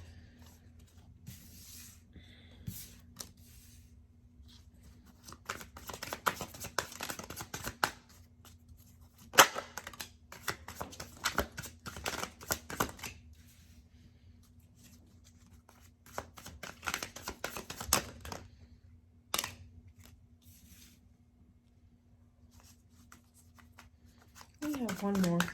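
Tarot cards are shuffled and drawn from a deck, with bursts of riffling and soft card slaps between quiet stretches, close and fairly soft, and a voice speaking at times.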